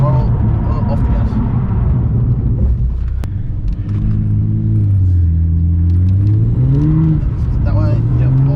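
Ford Falcon engine revving and rumbling while the car slides through a drift, a loud, close, low drone rising and falling in pitch under excited instructions spoken inside the car.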